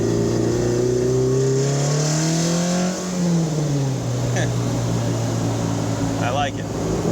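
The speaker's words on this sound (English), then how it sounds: "Listen to that, I'm doing partial throttle right now." A 1976 Alfa Romeo GTAm engine hums under partial throttle, its loud, steady drone rising in pitch and then settling, heard from inside the moving car.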